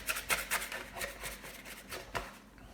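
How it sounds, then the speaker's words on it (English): Dough scraper scraping bread dough for rolls from the sides of a bowl, with soft repeated rubbing strokes in an uneven rhythm, close and fairly faint. "You can use your scraper to clean out the bowl on the sides."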